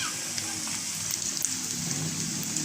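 Cauliflower pieces for gobi manchurian frying in hot oil, a steady close sizzle and crackle, with a voice talking over it.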